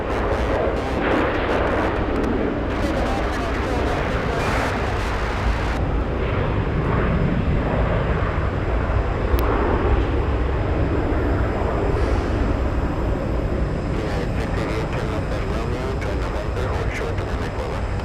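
A Delta airliner takes off at Boston Logan airport, its engines making a loud, steady broadband roar that holds without pause for the whole stretch.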